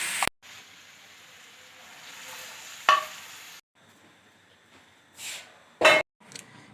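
Nuts fry in a pan for a Kabuli chicken pulao, with a quiet continuous sizzle broken by a few sharp clatters of stirring against the pan.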